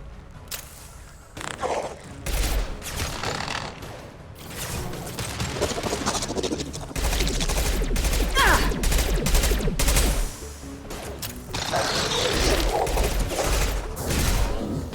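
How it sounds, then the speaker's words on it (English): Heavy gunfire bursts from a Mass Effect 2 battle, rapid loud shots and impacts repeating across the whole stretch, with booming low-end hits and brief muffled voices in between. "Firing a high-impact shot."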